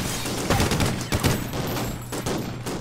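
Dense, rapid gunfire from a Call of Duty: Ghosts match rattles in quick overlapping bursts, loud and close, with no pauses across the whole stretch.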